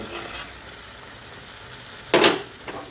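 Malabar spinach ghonto frying in a pan is stirred in two short scraping bursts, the second louder and closer. A quiet, steady frying hiss runs between them.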